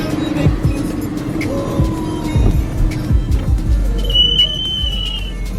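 A supercar driving on the road, its engine droning and swelling in loud, close surges with a brief high whistle near the end.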